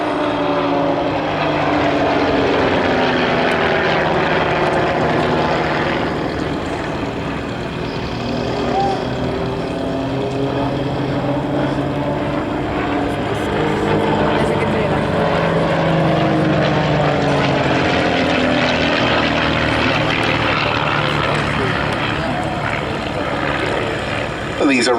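Two Team Raven propeller aircraft fly a display, a continuous loud drone of engines and airscrews that swells and shifts in pitch as they pass, with a commentator's voice over it.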